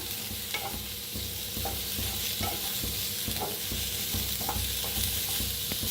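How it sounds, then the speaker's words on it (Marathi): Onion frying in a pan for an egg curry: a steady close sizzle with rhythmic stirring scrapes every half second or so, loud and continuous with no talking. "तर कांदा चांगला असा भाजून घ्यायचा आहे"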